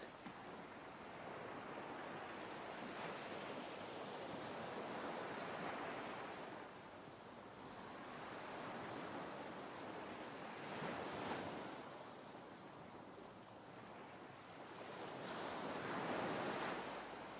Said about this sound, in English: I invite the sounds of the ocean to come forward